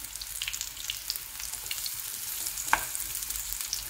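Sweet potato slices fry in oil, a faint, steady bubbling sizzle with soft irregular crackles and one brief sharper tick near the end.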